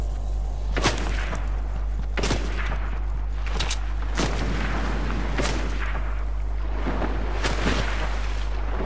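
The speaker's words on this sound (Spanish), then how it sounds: "Que nos está disparando, tío." Gunfire rings out in Fortnite, with sharp single shots and short bursts at irregular intervals over a constant low game background. The shots are loud and close.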